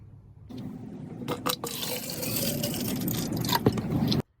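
Bleach poured from a container into a plastic spray bottle outdoors, a steady close liquid splash and gurgle lasting about four seconds, alone with no talk, ending abruptly.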